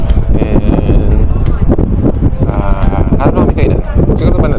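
Outdoors, strong wind buffets the microphone in loud, rumbling gusts while people keep talking over it.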